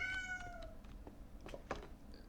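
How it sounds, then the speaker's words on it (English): A pet cat meows several times close by, with short tonal cries followed by a few softer chirps in a quiet indoor room. "Sorry about my kitty, she distracted me."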